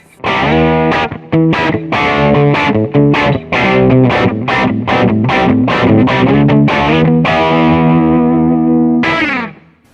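An electric guitar played on its bridge pickup through an amp rings out loud, distorted notes struck in a quick rhythmic run before a final sustained chord.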